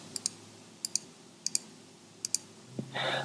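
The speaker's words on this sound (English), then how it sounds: "Or I can just click manually on items." Four crisp pairs of double clicks from a computer mouse selecting items in rental inventory software, close and quiet against near silence, followed by a brief bump and rising noise at the end.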